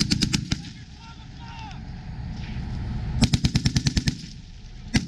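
U.S. Army soldiers fire a machine gun during a live fire exercise at the Grafenwoehr training area, sharp rapid bursts at the start and end with a quieter gap between, loud and close outdoors.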